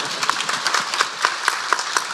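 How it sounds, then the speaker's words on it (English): An audience claps for a chief of staff at a legislative session preview, a modest spatter of hand claps with a few sharper individual claps standing out over the crowd. "please clap for her"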